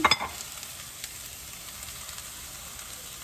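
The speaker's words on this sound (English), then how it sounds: "And we'll add in our onion." Onion for chow mein sizzles in a pan with a sharp burst of crackle at the start, then settles into a soft, steady hiss that stays fairly quiet and constant.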